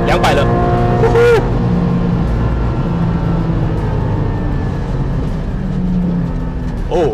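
A Porsche 718 Cayman GT4 with manual gearbox and naturally aspirated boxer engine drones loudly and steadily on a track, its pitch sweeping as an automatic rev-matching downshift blips the throttle, with a voice speaking over the engine.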